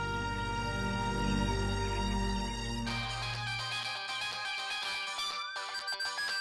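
A phone ringtone plays as a continuous tonal melody with sustained bass notes, shifting to a brighter, busier tune halfway through, steady and moderately loud with no talking over it.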